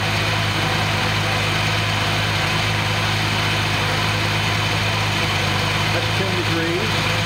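A Datsun engine idles steadily on a run stand, a constant low rumble with vibration running throughout at moderate loudness, with a person talking faintly in the background.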